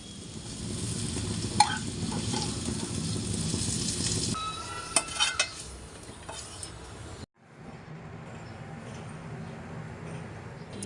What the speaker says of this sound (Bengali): আলু সবগুলো পিস কিন্তু আমার খুব সুন্দর করে ভাজা হয়ে গেছে